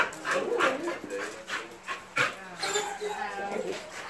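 A dog at close range lets out short whimpers and yips among people's talking and laughter.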